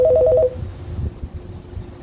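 An incoming phone call tone plays through a Xiaomi Mi Compact Bluetooth Speaker 2, four quick repeated electronic beeps, then it stops, leaving a quiet background with faint handling noise.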